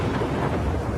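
Rain and wind from a video game trailer form a dense, steady, low rumble that is loud and constant through a single second, with no voices.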